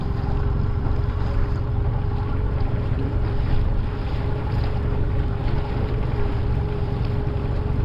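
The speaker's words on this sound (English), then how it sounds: "I'm going to have to do a lot of keeping the engine running." A fishing boat's engine keeps running while the boat drifts at sea off Poole at low tide. It makes a steady, continuous low drone with a faint constant hum, mixed with wind and water noise throughout.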